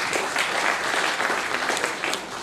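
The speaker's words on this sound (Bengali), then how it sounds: "আমি তাদের উদ্দেশ্যে একটা করতালি আশা করছি" Audience applause at a welcome programme, a dense sustained wash of clapping that stays loud and steady throughout without a break.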